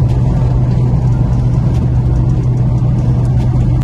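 A Fiat Uno 1.4 car engine runs loudly and steadily with a deep droning hum and rattling vibration, close up and without pause, on a road.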